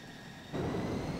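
A McDonnell Douglas F4D jet in Microsoft Flight Simulator throttles up: a steady engine whir jumps to a louder, fuller broadband roar about halfway through and holds there, close and continuous.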